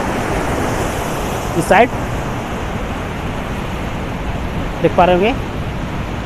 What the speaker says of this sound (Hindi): ऐसा ही पानी, मतलब बहुत ही ज़्यादा पानी ऊपर से इस तरफ जा रहा है